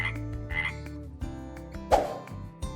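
A frog croaks twice, fairly close and distinct, over gentle background music with a plopping sound effect in a children's animal game.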